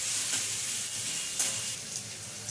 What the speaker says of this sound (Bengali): রসুন থেঁতো করে রেখেছি সেটা দিয়ে দিলাম। এবার লাল করে ভেজে নেব।